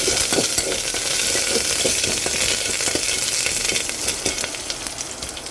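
Curry leaves and dried red chilies crackle and sizzle loudly in hot oil for a buttermilk curry tempering, a dense, steady frying hiss with scattered sharp pops, close and continuous throughout.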